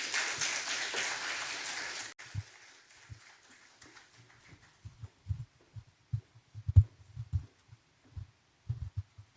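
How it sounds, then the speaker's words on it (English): Audience applause for calypsonian Olu Holder at an awards event: a loud burst of crowd clapping for about two seconds that cuts off, followed by scattered low thumps and handling knocks. "Let's give him a round of applause"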